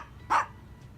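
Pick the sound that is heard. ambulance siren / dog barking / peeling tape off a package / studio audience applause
dog barking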